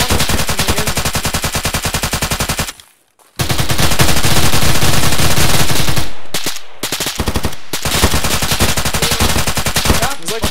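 AK rifles firing in the Arma military game, sustained loud bursts of automatic gunfire nearly filling the stretch, with a brief pause and a few short gaps between volleys.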